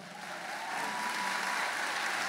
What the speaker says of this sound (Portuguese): Quero que você aplaude o Senhor pela vida desse casal.